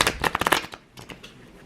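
A quick riffle of tarot cards: a rapid burst of crisp, close flutters and slaps over about half a second, then a few softer, scattered card taps as the deck settles.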